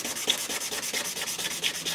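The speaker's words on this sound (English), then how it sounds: "Pretty soon I'll be sanding a 1/4 inch square." Steady, rhythmic scraping of sandpaper rubbing back and forth on metal for jewelry making, a gritty hiss repeating about every quarter second, close and fairly loud with no talking.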